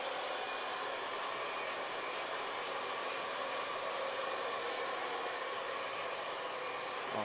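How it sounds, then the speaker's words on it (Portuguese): A hair dryer blows steadily on a man's hair worked with styling wax, or pomade, during a scissor-cut haircut, giving an unbroken close whoosh with no talking. "à medida que o secador bate na cera, né, na pomada, ele começa a abrir um brilho mais natural do cabelo"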